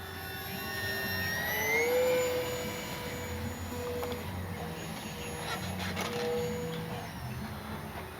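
An FMS Cessna 182 Skylane RC model plane flies aerobatics overhead, its small electric motor whining at a steady pitch that rises and falls in tone as it swoops and rolls, moderately distant with no talk.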